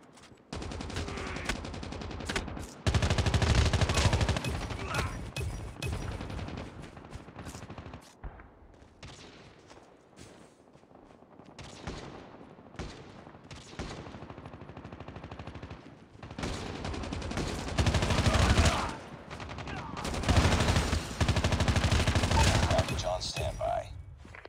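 Video game gunfire in a match with gravity spikes comes in dense, sustained automatic bursts with quieter gaps, loud and close, with explosive booms mixed in.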